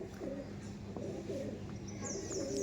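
Andhra pigeons cooing softly in a loft, a low steady murmur of several birds with faint background noise throughout.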